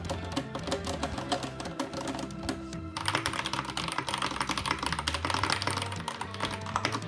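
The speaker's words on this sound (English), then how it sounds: "you can hear it too when I start actually clicking and clacking these buttons" Rapid, dense clacking of keys on a Drop Lord of the Rings mechanical keyboard, continuous close-up typing with a slightly coarse, rocky click texture and no talking.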